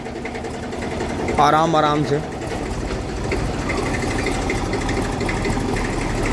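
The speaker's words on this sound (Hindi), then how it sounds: "ट्रैक्टर चल रहा है" A tractor engine idles and chugs steadily throughout, with a brief voice talking over it near the start.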